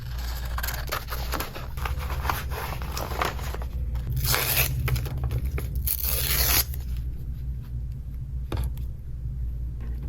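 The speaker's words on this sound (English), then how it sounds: "So I'll cut out part of the downtown map." Scissors snip through a paper streetcar map for a collage, with close scratchy cuts and crinkling over a low steady hum. Brighter swishing bursts stand out in the middle, and no one speaks.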